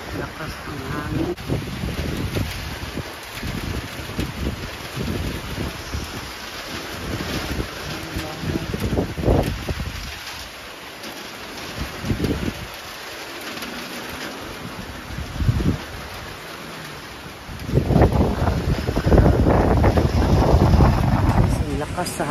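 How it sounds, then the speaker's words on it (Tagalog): Strong wind with rain gusts around a house, roaring and buffeting the microphone in uneven surges that swell loudest near the end, with voices heard now and then. "Lakas ang hangin."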